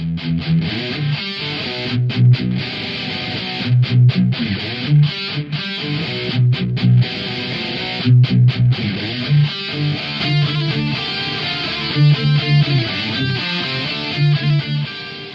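Distorted electric guitar played through a Boss Katana Mark II amp head, dialed for a classic album's tone: tight, chugging palm-muted riffs with sharp stops and accented chords, loud and close, with no talking.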